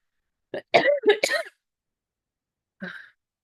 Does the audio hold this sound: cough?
yes